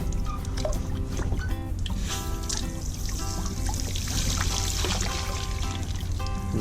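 Water gushes steadily from a hose onto a sailboat fitting, flushing out rust stains, a continuous close pouring and trickling with splashes and drips throughout.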